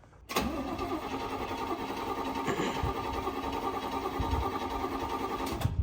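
A 1969 Oldsmobile Cutlass convertible engine cranks, catches and settles into a steady, loud idle that runs on without pause, with no talking over it.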